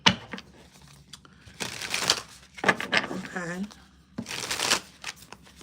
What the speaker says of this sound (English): I thought my cards were shuffled